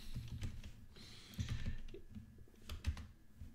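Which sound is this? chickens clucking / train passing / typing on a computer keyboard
typing on a computer keyboard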